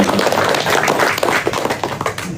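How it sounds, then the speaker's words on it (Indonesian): An indoor audience claps together in a dense, steady burst of applause, close and fairly loud throughout. "Boleh tepuk tangan pertanyaannya Pak"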